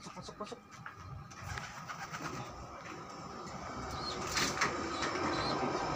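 Pigeons flying down and landing, several soft wing flaps and fluttering bursts early on with low background rumble that builds toward the end.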